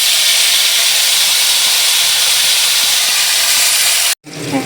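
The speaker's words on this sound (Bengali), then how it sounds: "বেগুনটাকে ভেজে নেব।" Eggplant pieces fry in hot oil for a Medinipur-style Bengali shukto, giving a steady, loud broadband hiss and sizzle that runs unbroken before cutting off abruptly near the end.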